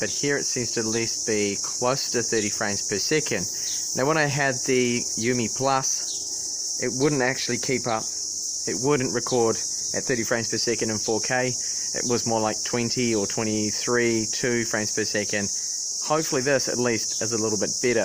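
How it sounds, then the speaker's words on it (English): Cicadas sing in the trees as a constant, loud, high-pitched drone that runs unbroken beneath someone talking steadily throughout. "They're cicadas singing in the trees."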